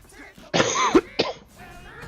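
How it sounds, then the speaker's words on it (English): Two hoarse coughs from someone getting over an illness, loud and close, the first longer and rougher than the second, with quiet pauses around them. "Still kind of got some of the cough going a little bit."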